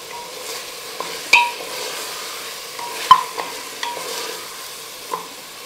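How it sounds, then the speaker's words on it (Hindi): Mutton pieces being stirred around in a cooking pot with whole spices, a soft steady sizzle under scattered scraping knocks of the spoon against the pot, close and alone with no talking. "इस तरह से चारों तरफ चला चला के इसे पकाइए"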